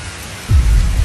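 Heavy rain pours down outside a house at night, a steady hiss that swells suddenly partway through into a louder, close, rumbling downpour, with no voices.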